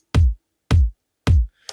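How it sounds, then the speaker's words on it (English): The Silver Lake kick drum sample from Logic Pro's Drum Machine Designer strikes three times at an even pace, each kick punchy and deep with a quick decay, followed by a faint brief tail. "You see a kick called Silver Lake, and Silver Lake sounds like this."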